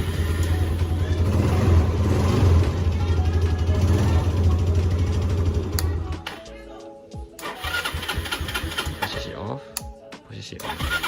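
Motorcycle engine idling with a steady, loud rumble for about six seconds, then abruptly cut off by an engine kill switch, leaving clicks, rattles and a person talking.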